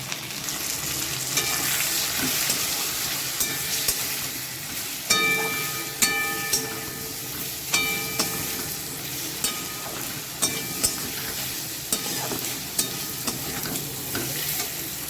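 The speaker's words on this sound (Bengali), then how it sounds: "এবার আমি এতে দিয়েছি হলুদ লঙ্কা গুঁড়ো জিরে গুঁড়ো আর আদা কুচানো তো এবার আমি কষে নেবো" Turmeric, chili powder, cumin powder and chopped ginger sauté in hot oil for a cauliflower dish. A loud, close sizzle runs throughout, punctuated by sharp, regular spatula scrapes and taps against the pan.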